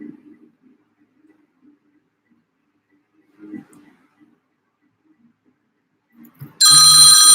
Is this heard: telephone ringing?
yes